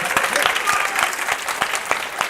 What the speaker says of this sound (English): that was a large applause for that